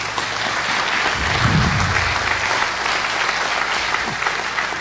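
Steady applause from a town meeting audience, a dense wash of clapping that holds at an even level for several seconds.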